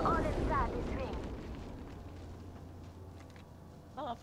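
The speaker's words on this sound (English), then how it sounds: "There is an airstrike on our position." Airstrike explosions boom in an Apex Legends match, a heavy rumbling blast up front that decays into a long low roar, with a voice briefly heard over it.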